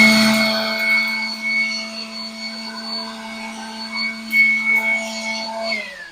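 A steady, loud motorized whine with a high tonal hum runs throughout from a cordless air blower with a brushless motor operating close by, with no talking.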